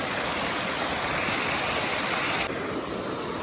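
A river rushes beside a hiking trail near Fern Lake in Rocky Mountain National Park, a steady, loud, close broadband roar of flowing water with no voices, continuing unbroken for the whole stretch.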